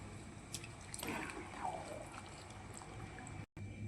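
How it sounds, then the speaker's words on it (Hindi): Meat stock poured onto wheat in a pot while making mutton khichda, a quiet liquid trickle and splashing with a few drips, close and faint, with no talk. "और डालेंगे गोश्त का पानी।"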